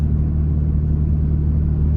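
Steady low exhaust drone from a Toyota Tacoma pickup truck with road rumble, constant and loud throughout, cruising at 60 miles per hour.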